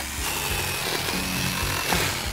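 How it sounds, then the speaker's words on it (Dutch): Cartoon power saw cutting along a line on a wooden plank, a continuous buzzing rasp with a few pitch shifts and rough bursts, close and prominent, with no talking. "Hier, zaag langs deze lijn."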